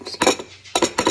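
Eggs cracked against a bowl for scrambled eggs, three sharp clinking knocks with brief pauses, close and clear with no talking.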